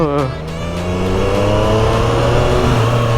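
A 2020 Triumph Street Triple 765 RS motorcycle engine, a light 123-horsepower bike ridden in road mode, revs close and loud with a rising, sustained whine held steadily throughout.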